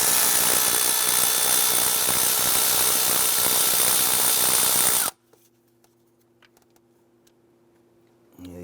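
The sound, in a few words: power tool loosening 8mm intake bolts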